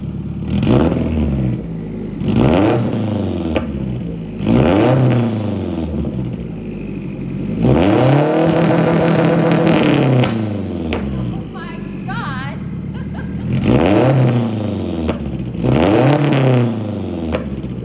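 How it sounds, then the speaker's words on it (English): A Subaru WRX with a loud exhaust and a Turbosmart race port blow-off valve revs up and drops repeatedly in a rhythmic pattern, with several loud rising and falling engine sweeps at close range. "The Turbo Smart race port blow-off valve. So that right there is what causes all those loud, obnoxious sounds."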